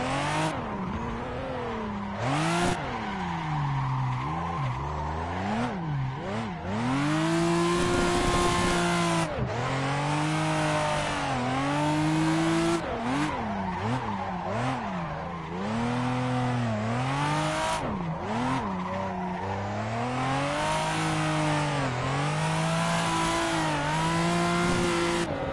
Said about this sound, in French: Ah, la sonorité, le turbo là sur ces autos.